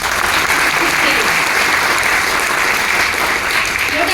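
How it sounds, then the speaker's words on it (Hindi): An audience at a training event claps loudly and continuously, a dense, even roar of applause that fills the space from start to finish without pause. "तो पहले एक जोरदार तालियां हो जाए।"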